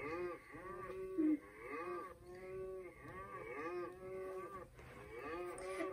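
Cartoon cattle mooing repeatedly in a simple app game, long drawn-out calls one after another with short gaps, clear and close with no talking.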